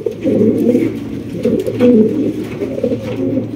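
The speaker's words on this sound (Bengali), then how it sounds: "এখানে রয়েছে একজোড়া পটার কবুতর, ব্ল্যাক ম্যাকপাই পটার" A pair of black magpie pouter pigeons coo steadily and close by, their low throaty calls rolling in repeated swells with no talk over them.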